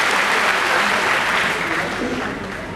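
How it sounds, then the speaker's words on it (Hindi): An audience at a community award ceremony claps steadily to welcome a guest, with dense, even applause that fades slightly toward the end. "हमारे अतिथि आदरणीय पटेल साहब का तालियां बजाकर स्वागत करने का कष्ट करें"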